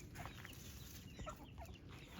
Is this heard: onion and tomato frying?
no